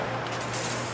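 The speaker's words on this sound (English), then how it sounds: "Spray off the window again." A single close, sustained hiss of a spray bottle misting a car window during window tinting, lasting about a second.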